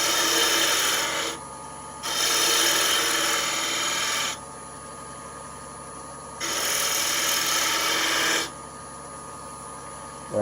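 Skew chisel cutting wood on a lathe while rounding over a draw knife handle, a bright steady scraping hiss in long bursts with short quieter gaps between passes, over the constant motor hum.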